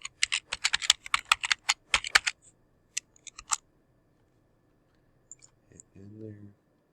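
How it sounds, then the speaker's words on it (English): Typing on a computer keyboard, a quick burst of close, crisp keystrokes followed by a few scattered clicks and a short pause, with a brief low voice at the end. "we're going to type in our spacer plate"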